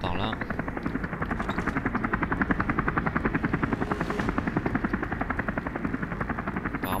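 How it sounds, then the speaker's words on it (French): A helicopter in the video game Deus Ex Human Revolution gives a loud, steady, rapid rotor chop that pulses evenly throughout, with voices audible underneath. "Apparemment il y a un hélico."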